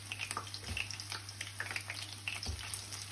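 Large prawns frying in hot oil, giving a quiet, continuous sizzle dotted with frequent small crackles and pops, close by and without talking.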